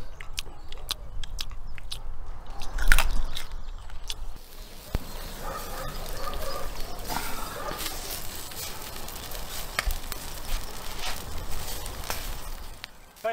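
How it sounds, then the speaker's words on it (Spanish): Someone chews cheese while a whole ostrich roasts, with moist biting and chewing sounds close by, several harder crunchy bites early on, and a steady crackle of cooking in the background. "¿Puedo masticar un poco?"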